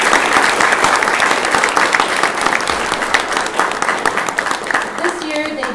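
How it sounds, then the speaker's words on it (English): A crowd applauding graduates at a spring graduation reception, steady loud clapping from many hands that holds throughout without a break. "Let's give them all a round of applause"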